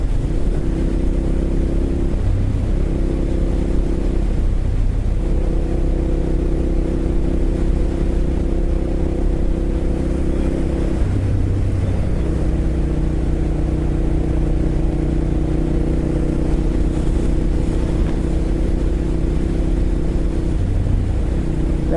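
Motorcycle engine droning steadily under a rider, with the pitch of the note stepping up and down as it shifts through the gears, loud and constant over wind rush and no speech.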